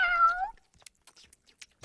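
A cartoon cat gives one clear, wavering meow lasting about half a second, followed by faint scattered clicks and rustles and then a low thump at the very end.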